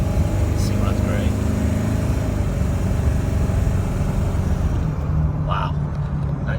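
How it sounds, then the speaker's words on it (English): A truck engine runs steadily with a low rumbling idle throughout, loud and close, while a voice talks over it in places. "Nice running truck."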